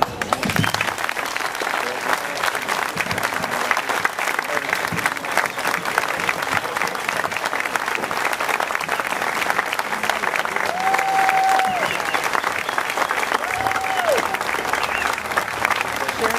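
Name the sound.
audience applause at Veterans Day ceremony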